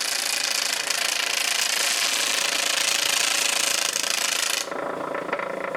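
An All-U-Need flat lap machine grinding a bevel onto a cabochon edge, a loud, steady harsh whir that drops abruptly to a quieter hum near the end.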